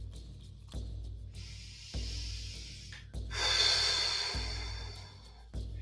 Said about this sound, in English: Obvious, full, deep breaths. Hear the breath.